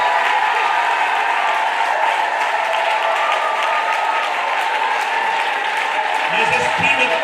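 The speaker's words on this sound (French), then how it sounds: "Acclame très fort le Seigneur Jésus." Church congregation applauding and cheering loudly during a French-language worship service, a dense, steady wash of clapping and crowd voices held at full level throughout.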